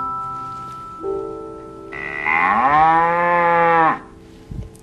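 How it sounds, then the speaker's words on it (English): A cow sound from a children's toy plays as a single drawn-out moo that rises and swells before cutting off, heard clearly and alone after a short electronic tone. "And there's a cow."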